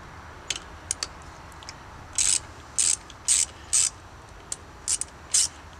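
Ratchet wrench loosening the bolt that holds a crossbow's limb section together, giving a series of short, crisp, close clicking bursts in an uneven rhythm with quiet gaps between strokes.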